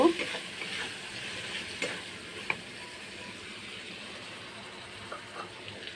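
Spice paste with turmeric powder is stir-fried in a pan for a papad recipe, giving a soft continuous sizzle with occasional spoon taps and scrapes, fairly quiet and steady throughout.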